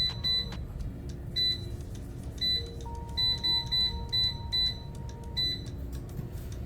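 An air fryer control panel being set to preheat at 400 degrees, giving a series of short, sharp electronic beeps in irregular clusters over a low steady hum, close and clear with no speech.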